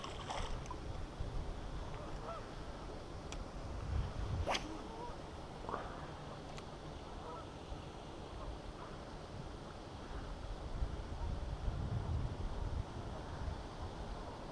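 Steady wind noise on open water during a February crappie fishing outing in Virginia, a continuous low rumble with gusty swells and faint splashes, fairly loud throughout with no talking.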